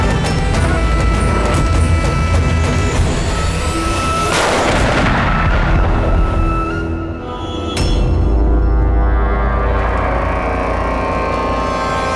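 Gunfire in a Bengali crime drama prison scene: loud, booming shots ring out over a dense, continuous dramatic soundtrack, with sharp blasts near the middle and a later crack.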